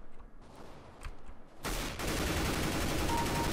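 Rapid gunfire in Counter-Strike: Global Offensive, a dense, loud burst that starts abruptly partway through and keeps going over the quieter game sounds before it.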